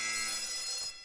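A brief electronic alarm tone from the Arma 3 mission editor, a dense buzzing wail held for about a second and then cut off, heard alone.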